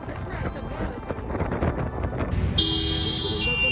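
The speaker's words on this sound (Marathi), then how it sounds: "सगळेजण आज गावी निघाल्यामुळे आम्हाला खूप जास्त ट्रॅफिक लागत होती." Heavy road traffic on the way to villages near Latur during the Yelavas festival rumbles under wind buffeting the microphone, then a car horn sounds a long, steady blare near the end.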